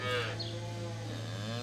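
A cow moos in a long, steady low call inside a farm scene, loud and alone with no talk.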